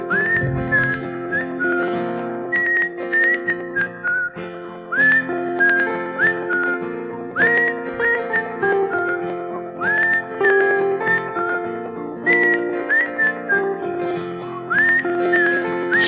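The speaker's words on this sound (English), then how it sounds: "A lot of whistling." People whistling a pop melody in clear sustained phrases that repeat steadily for the whole stretch, loud and close with no talking.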